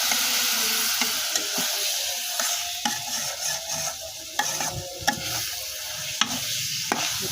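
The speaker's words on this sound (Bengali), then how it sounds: "ভালোভাবে কষিয়ে নেব।" A spiced mix of fish and flat beans (sim) is sautéed in a pan in a Bangladeshi village kitchen. Loud, steady sizzling continues throughout, broken by sharp scraping clicks of a spatula stirring at irregular intervals, with no talk.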